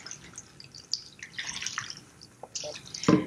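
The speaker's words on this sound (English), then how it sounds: "I'm going to add just a bunch of water" Water poured into a container for cooking, a soft splashing trickle with drips, close and fairly quiet, ending in a louder splash, while someone speaks over it.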